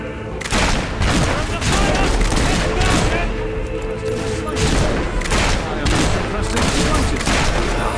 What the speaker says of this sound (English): That was a satisfying shot.